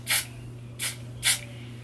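Got2b hair spray sprayed onto wig lace in three quick close hissing bursts, evenly spaced and short.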